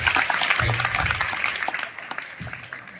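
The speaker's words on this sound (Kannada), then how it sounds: "ಒಂದು ಜೋರಾದ ಚಪ್ಪಾಳೆ ಬರಬೇಕು" Applause from a live audience at a Kannada stage comedy show with a talking-doll act, a burst of clapping that is strong at first and gradually thins out toward the end.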